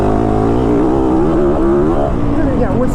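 A 2022 Yamaha YZ450FX dirt bike engine drones loudly and continuously while being ridden, its pitch wavering with throttle changes, with possible talk beneath it.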